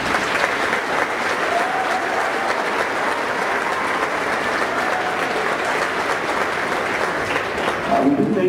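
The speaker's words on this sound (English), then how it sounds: "let's give them a round of applause" An audience at an elementary school Christmas concert claps in sustained, dense applause filling the room, steady and loud throughout.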